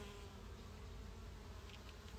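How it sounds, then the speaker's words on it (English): Bees buzzing in a cactus garden at sunset, a faint steady hum under low background noise with no voices. "Check out these beautiful bees"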